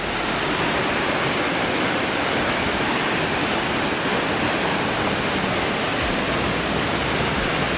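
A beautiful waterfall in Sri Lanka pours in a dense, unbroken roar of rushing water, loud and close with no pauses.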